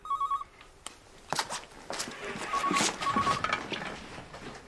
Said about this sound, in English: Pick up the phone, Barry.